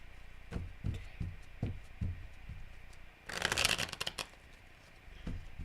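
Tarot deck shuffled by hand: a run of soft riffling flutters builds into a dense, bright burst of card slaps midway, then trails off into light taps, close and clear with no talking.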